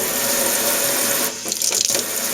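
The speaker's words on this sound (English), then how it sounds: "move it back and forth to get your water to flow" A Moen Adler kitchen faucet runs water into a sink, a loud steady rush that briefly drops and spatters as the flow shifts.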